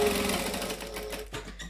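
A sewing machine steadily stitching appliqué onto a fabric bag, a close, continuous whirring hum of the running motor that slows and stops near the end, with no talking.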